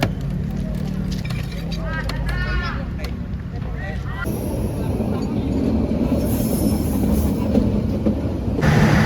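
A train passes a level crossing without barriers on Jalan Ampera, a loud continuous rumble with clattering wheels and high metallic squeals, close by, while people talk over the noise.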